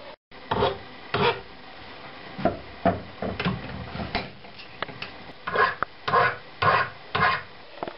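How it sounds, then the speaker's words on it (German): A hand file taking the burr off a metal base plate for a Porsche tool, heard as repeated rasping strokes with short pauses between them, close and clear in a quiet workshop. "Vor dem letzten Gang entferne ich nochmal den Grat, damit wir auch präzise messen."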